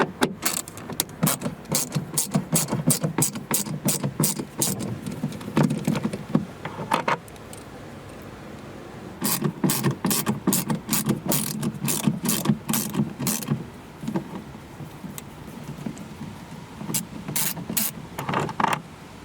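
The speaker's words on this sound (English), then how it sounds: "First we have to remove two bolts, one on the left side and one on the right side." A ratchet fitted with a Torx 25 bit backing out liftgate bolts on a Volvo XC40, two long close bursts of rapid clicking separated by a short pause, with no talking.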